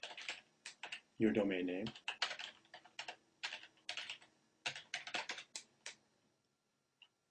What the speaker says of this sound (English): you'll know when everything's resolved when you can type in mail dot